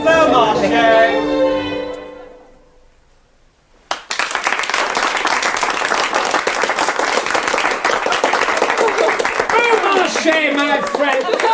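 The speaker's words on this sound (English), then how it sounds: "why is everyone applauding?" Loud audience applause bursts in and fills the scene of a Beaumarchais audio play, steady clapping and crowd noise carrying on for several seconds after a brief quiet stretch with voices.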